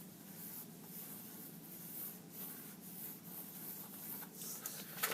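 Pencil scratches across paper in sweeping curved strokes while circles are drawn, a close, steady rubbing texture with brief pauses and no speech.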